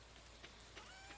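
Rain falls in a video game as a soft, faint, steady patter on surfaces, with a few brief drop-like ticks over a quiet ambient background and no voices.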